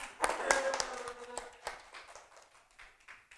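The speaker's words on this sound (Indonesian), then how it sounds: "Nah, tepuk tangan buat Ustadz." Hands clap in a small classroom, a short scattered burst of applause that peaks early and thins out over a few seconds, faint with some background voices.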